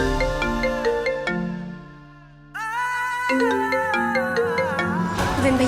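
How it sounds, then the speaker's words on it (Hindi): A loud melodic ringtone plays, pauses briefly, then resumes with a brighter tune, continuing to the end. "आपका फोन बज रहा है।"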